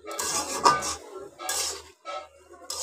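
A cooking pot holding shing fish being covered with a lid: a few close metallic clanks and scrapes of metal on metal in short bursts, separated by brief pauses.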